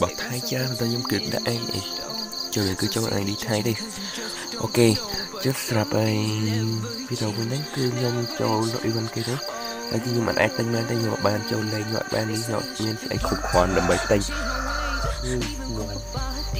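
Insects such as cicadas or crickets chirp steadily outdoors as a constant high-pitched drone behind a Free Fire video game session, with a person talking over it throughout.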